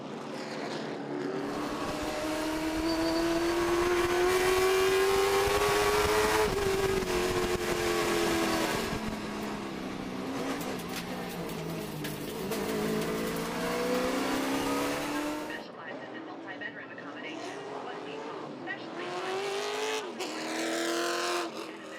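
Late model stock cars racing at Langley Speedway, engines roaring loud and close with rising and falling pitch as they pass and accelerate, a brief tire squeal mixed in, continuous throughout.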